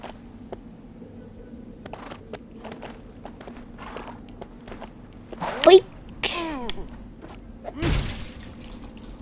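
A horse's hooves clip-clop in the LEGO Worlds video game, a quick regular clatter of light hoofbeats running throughout. Brief voice sounds and short bursts of noise rise over it midway.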